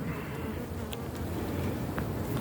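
Honeybees swarm over an open brood frame pulled from a hive, a dense, continuous close buzz with a few individual bees droning past the microphone.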